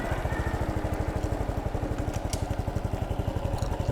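A 2013 Honda Super Cub 110cc motorcycle idles steadily nearby, its engine putting out an even, rapid low-pitched pulse with a light mechanical clatter. No voices are heard.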